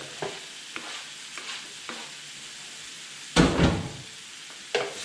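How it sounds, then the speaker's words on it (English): Cooked lobster meat tossed with spices in a hot pan for Singapore noodles: a steady sizzle with repeated scraping stirs and one louder clattering toss near the end. "Now we'll whack in our lobster meat."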